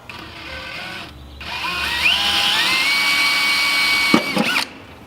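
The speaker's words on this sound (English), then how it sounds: "What I'm going to do now is drill the self-tappers, fasten this into place" A power drill drives self-tapping screws into a Jeep Cherokee XJ firewall, whining steadily as its pitch climbs, then stopping briefly before a final loud burst and a clunk.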